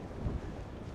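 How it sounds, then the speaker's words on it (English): Gusty wind buffets the microphone on an exposed Lake District hilltop, a brief close rush of low roaring noise with a short stronger gust. "I think the wind will be similar to what I've got now"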